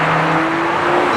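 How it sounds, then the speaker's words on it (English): Supercharger whine from a 2024 Lotus Emira First Edition heard from inside the cabin, a steady tonal whine over loud, constant engine and road noise throughout the short stretch. "I can hear the supercharger whine behind me"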